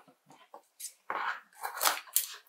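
Packing tape is pulled off and pressed down onto a package, heard as short close tearing rips and crinkly scrapes in quick irregular bursts, the loudest strips coming in the second half.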